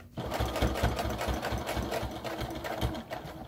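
A sewing machine stitches a fabric makeup brush holder in quick bursts of rapid mechanical thumping, several short runs separated by brief pauses, close and clear with no voices.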